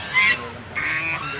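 Geese by a stream honk twice, close and fairly loud, two short nasal calls separated by a brief pause.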